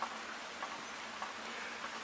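Faint, steady patter of rain falling outdoors in a papaya orchard, a soft continuous hiss with a few light drops ticking through it.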